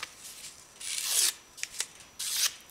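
A knife blade drawn across a Lansky 600 grit sharpening stone held in a jig, giving several bright, rasping strokes of uneven length, close and clear with short pauses between.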